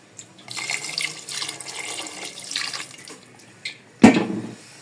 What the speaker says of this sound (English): I still need some water in this pot too.